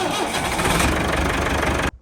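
A 1962 dozer engine firing up on a jump starter's boost, roaring loud and rough with a steady knocking rumble for about two seconds before cutting off abruptly.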